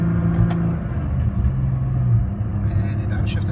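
Nissan GT-R with an Ecutek paddle-shift transmission upshifting while driving, a loud steady engine drone with a brief shift in tone as the gear changes, heard from inside the car.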